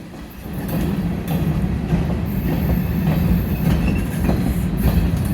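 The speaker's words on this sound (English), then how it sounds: "It's a big train." A big HO scale model train with four motors runs past close by, a continuous rolling rumble with rhythmic clicking of wheels over track joints and occasional faint squeals.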